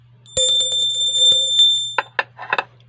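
Notification bell sound effect: a rapid string of bright, high ringing dings over a low steady hum, followed by several quick jingling chimes, loud and close with no talk.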